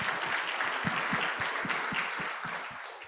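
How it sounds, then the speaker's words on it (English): An audience applauds at an event on advancing Africa, a dense wash of clapping with distinct individual claps, steady throughout and fading slightly at the end. "A round of applause for that."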